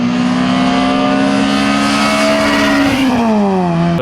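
A front-wheel-drive car with an aftermarket exhaust holds a loud, steady rev, then the engine note drops as the revs fall, close and alone with no talk.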